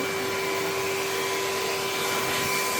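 A household vacuum cleaner runs steadily indoors during house cleaning, a continuous loud motor whine with an airy rush and no talking.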